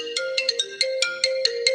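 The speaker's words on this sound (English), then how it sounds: "When those went unanswered, phone calls, all of them from Wade Wilson" A telephone ringtone plays a bright repeating electronic melody of short beeping notes, clear and alone without any talking.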